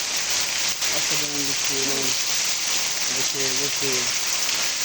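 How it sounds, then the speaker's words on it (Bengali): A steady, loud wash of heavy rain during a storm at Pakutia Bazar in Nagarpur, Tangail, continuous throughout, with brief bursts of distant voices or calls rising above it. "বৃষ্টি শুধু বৃষ্টি"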